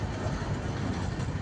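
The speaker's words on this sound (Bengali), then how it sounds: "এই মাত্র স্টেশনে এসে ঢুকলো ট্রেনটা" A long container freight train pulls into a station with a continuous heavy low rumble and faint rolling wagon noise, steady and fairly quiet throughout.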